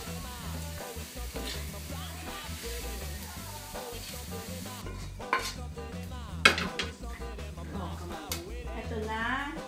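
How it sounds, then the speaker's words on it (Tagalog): Rice and saba banana being stirred in a pan, with steady scraping and light sizzling running throughout, plus a few sharper clinks of the utensil against the pan. "Halo lang natin ng halo hanggang maihalo ng mabuti ang kanin at saba."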